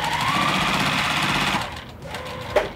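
A sewing machine runs steadily for about a second and a half, sewing the border seam on a quilted table runner, a close, even mechanical whir that then stops and is followed by quieter handling sounds.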